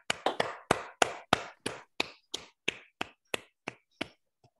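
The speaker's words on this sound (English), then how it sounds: "Let's all give him a round of applause." Applause after a mathematics talk, made up of about a dozen distinct, sharp claps at a slowing, uneven pace, sparse and close, with silence between them.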